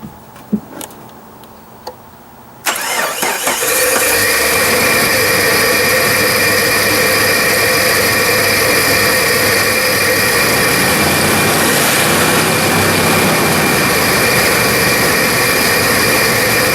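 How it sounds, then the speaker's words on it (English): A 1997 Jeep TJ engine cranks and starts after a throttle body upgrade and TPS replacement, then settles into a loud, steady, high-speed idle that runs unbroken, with a few faint clicks before it starts. "I was having a very high speed idle"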